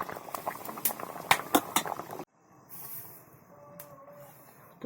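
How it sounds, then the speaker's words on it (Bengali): Cabbage and potato curry boiling in a pot, bubbling and popping close up with sharp bursts, then a sudden drop to a faint muffled simmer, as if covered. "তরকারি আমার ফুটছে।"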